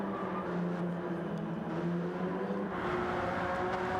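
Honda NSX race car engine in the Gran Turismo racing game, droning steadily with shifting harmonic tones as it downshifts into a turn, continuous and fairly loud with no talk.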